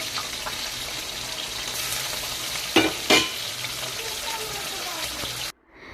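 Pabda fish frying in a pan hisses with a continuous sizzle, punctuated by a couple of sharper bursts as more pieces are dropped in, before it cuts off abruptly.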